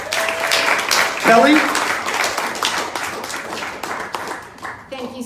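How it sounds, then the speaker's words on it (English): An audience at a political debate in Century Village West applauds its moderator with loud, steady clapping. Voices mix in, and a person speaks briefly near the middle and at the end. "And yes, you may applaud now."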